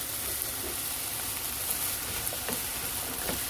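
Onions stir-frying in a pan over high heat for onion curry rice, giving a steady, close sizzling hiss with a few soft stirring ticks throughout.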